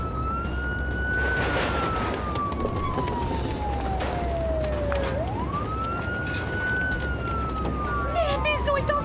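A fire engine siren sweeps slowly down in pitch, then rises again in a long wail, loud and steady over a background rumble, with another siren tone starting near the end.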